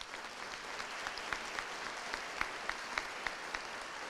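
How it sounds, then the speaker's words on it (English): Graduation-ceremony applause for a North Texas early college high school fills a large hall as a steady wash of many hands clapping. Occasional sharper nearby claps stand out above it. "That deserves a round of applause."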